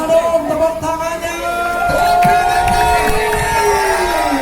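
A crowd at a karapan sapi bull race prize ceremony cheers and applauds, a busy mass of voices and clapping with a loudspeaker voice over it.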